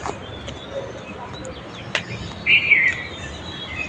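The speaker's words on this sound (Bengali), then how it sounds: "এই বাইরে কি সুন্দর পাখির ডাক" Outdoors on an afternoon walk, a few birds chirp and call at a moderate distance, with a brighter burst of song toward the end over a low ambient background.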